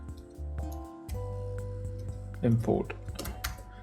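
Computer keyboard typing code, a run of light clicking keystrokes over a steady hum and background music, with a louder flurry of keys near the end.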